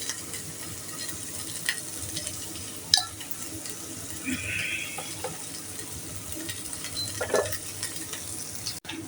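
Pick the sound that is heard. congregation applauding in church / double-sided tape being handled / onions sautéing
onions sautéing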